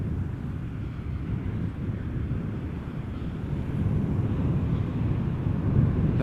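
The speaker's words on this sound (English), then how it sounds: "This looks like an Embraer 190 arriving from Stuttgart." A KLM Embraer 190 arriving at Amsterdam Schiphol on a flight from Stuttgart. It sounds like a steady, low, broad roar at a distance that slowly swells, mixed with wind buffeting the microphone.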